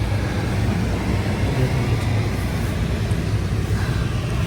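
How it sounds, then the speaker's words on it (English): A car engine runs steadily in freezing weather in New Zealand, the vehicle still coated in snow and ice; a continuous low, even rumble with no voices over it. "The car is started, but the snow or the ice on the car is not melting."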